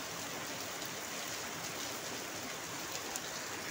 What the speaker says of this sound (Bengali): ভালো লাগে না বৃষ্টি হলে? আমার তো ভীষণ ভালো লাগে বৃষ্টির মুহূর্তটা।